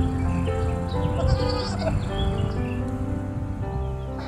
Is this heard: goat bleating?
yes